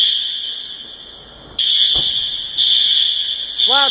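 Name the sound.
fire alarm ringing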